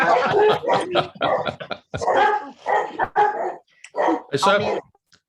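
Dogs bark in short bursts in the background, mixed in under a person talking steadily.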